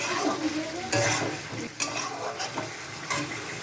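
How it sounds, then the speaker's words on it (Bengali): Spice masala for chicken korma sizzles in a pan after a splash of water is added, a steady moderate hiss broken by a few sharp utensil scrapes and clinks. "একটু জল দিয়ে দিলাম"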